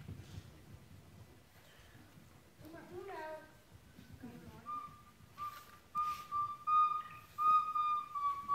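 A simple pipe or flute plays a short, thin tune of sustained high notes, fairly faint, entering after some quiet speech and background rustle and then growing slightly louder.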